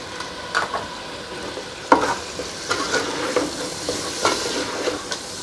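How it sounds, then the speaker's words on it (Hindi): Turmeric and ground coriander fry in a pan for a Kulfa saag chicken dish, a soft steady sizzle punctuated by several close scraping stirs of a spoon against the pan. "मसाले को थोड़ी देर के लिए फ्राई करेंगे"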